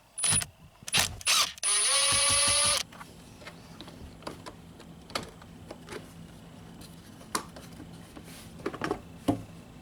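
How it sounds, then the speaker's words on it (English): A screw being removed from the glove box of a Honda Accord: a few close clicks, then a loud whirring burst of about a second from a driver, followed by faint small clicks and rattles. "there's our screw / little bolt that's holding everything in on this side. So let's go ahead and get that out."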